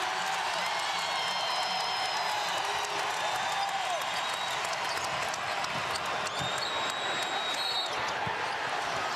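A basketball arena crowd roars in sustained cheering during a tense Memphis versus Gonzaga game, loud and continuous with whoops and whistles rising over it and a commentator's voice partly under the noise.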